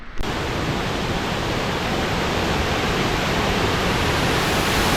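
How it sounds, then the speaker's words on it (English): A loud waterfall on a countryside walk roars as a steady, dense wash of rushing water, close and constant throughout with no voices over it. "I'm down at the waterfalls. It's pretty loud"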